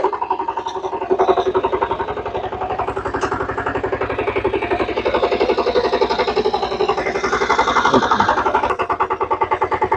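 A power tiller's small engine chugs steadily in reverse gear, a close, loud, even knocking rhythm that continues for the whole stretch with no talk over it.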